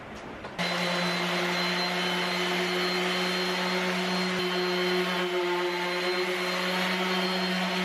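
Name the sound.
power sander sanding a wooden workbench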